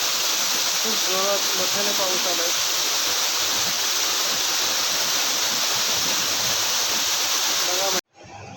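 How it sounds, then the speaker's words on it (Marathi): Heavy rain pours in a steady, dense roar that stays loud and close throughout, with a brief voice heard faintly near the start. "जोरदार पाऊस पडतोय मंडळी ढग पण गडगडत आहेत"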